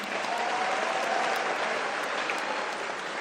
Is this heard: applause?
yes